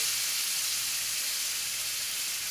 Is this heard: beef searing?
yes